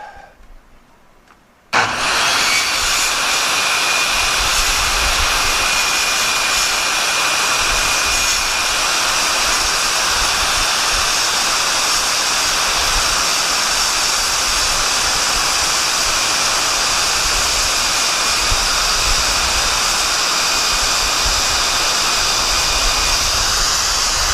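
Quarter-inch steel plate is being cut for a fire pit cover build. After a brief quiet moment a loud, harsh roaring hiss starts abruptly and holds steady, close and unbroken, with no talking.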